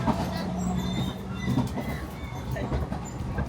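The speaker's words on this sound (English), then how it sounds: "This is a really bumpy train." A bumpy train climbs the Tateyama Kurobe Alpine Route through the mountains with a continuous low rumble and rattling clatter from the carriage. The sound is moderately loud and steady throughout, with no clear speech.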